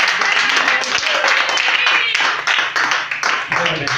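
A church congregation at an engagement vow ceremony in a tabernacle claps together in dense, rapid applause that carries on steadily for several seconds, with voices mixed into the crowd noise.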